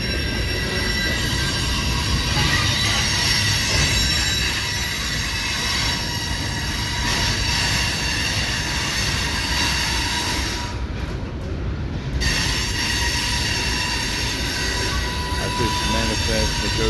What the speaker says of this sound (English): This manifest negotiates the southern leg of the Y onto the St. Joseph Sub.